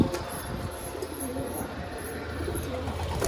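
Pigeons in a newly opened cage coo and call steadily over a constant background hum, the birds sounding close and continuous throughout with no talking.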